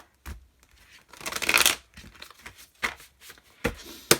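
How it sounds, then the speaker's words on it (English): Tarot cards being shuffled in a few quick riffling bursts, crisp papery flutters with short pauses between them, close up and fairly quiet. "Give me one more shuffle."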